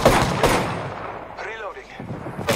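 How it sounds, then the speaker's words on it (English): Gunfire in the battle royale game Apex Legends: a couple of loud, sharp shots at the start and end, with a voice briefly heard in between. "I am taking fire, friends"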